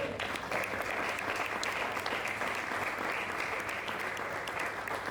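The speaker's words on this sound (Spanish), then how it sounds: "¿Acaso eso nos merece también un aplauso para el Señor?" A church congregation gives applause to the Lord during a sermon. Many hands clap in a steady, continuous wash at moderate loudness for the whole stretch, with no voices over it.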